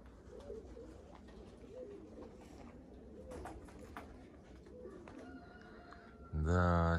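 Pigeons in a loft flock coo in low, soft phrases several times over a steady outdoor background hum, with people talking nearby and a loud, sudden sound closing the last moments.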